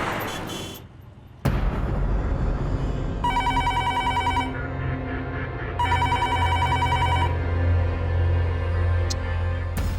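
A telephone rings in two long electronic bursts with a pause between, loud and close over a low rumbling background.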